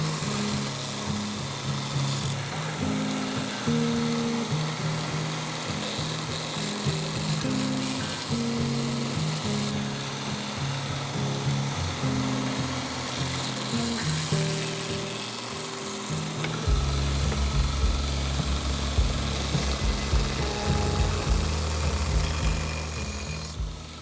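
Belt grinder running steadily while a broad axe bevel is pressed against the belt, giving a continuous abrasive whir that deepens in pitch partway through.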